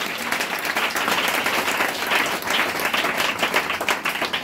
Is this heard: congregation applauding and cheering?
yes